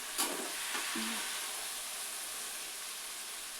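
Oil fries steadily in a pan while fish curry is being made, giving a dense, even hiss that runs throughout, with a couple of faint clicks near the start and no speech.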